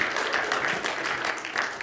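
A church congregation applauds at a morning service, a dense burst of clapping from many hands, close and sustained for about two seconds.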